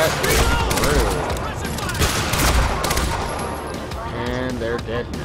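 Shotgun gunfire in the video game Quantum Break, a dense run of loud blasts and clattering shots filling the whole stretch, with a voice talking over parts of it.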